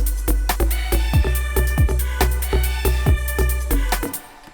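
Deep synth sub bass pumping against a punchy kick drum in an electronic drop, the bass ducking rhythmically with each kick in a steady four-on-the-floor pulse, loud and up front with no voices.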